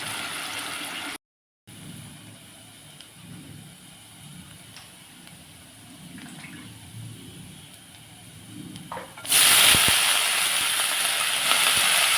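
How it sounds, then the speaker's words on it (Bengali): Spice paste with chili powder frying alongside potatoes in a pan: a low background hum, then a loud, steady broadband sizzle that bursts in near the end and keeps going. "এইবারে আমি ভাজবো মশলাটা ভালো করে আলুর সঙ্গে কষিয়ে নেবো"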